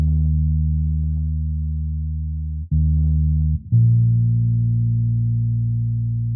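Live bass guitar run through the Guitar Rig 7 Clean Bass preset in a lo-fi beat, sustained warm low notes that hold steadily with two brief dropouts between changes, played alone.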